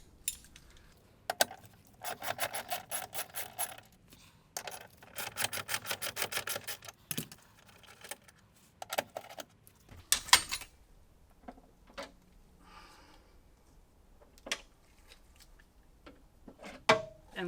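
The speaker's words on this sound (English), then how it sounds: "I'm gonna use a regular wrench" A regular wrench turns a bolt on a Tesla Model 3, making quiet clusters of rapid metallic clicks and ticks with pauses between them, then scattered single taps and clinks.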